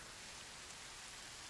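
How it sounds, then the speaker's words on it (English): Rain falls steadily in the Horizon Zero Dawn video game, a faint, even hiss of drops with no other sounds. "Oh, and now it's raining."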